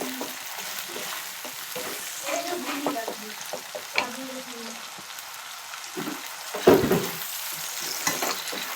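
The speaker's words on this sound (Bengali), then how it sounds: "এবার ভালো করে মশলাটা কষিয়ে নিতে হবে।" Spice paste sizzles as it sautés in a pan, with a steady close frying hiss and repeated scraping stirs of a utensil, one louder clatter near the end.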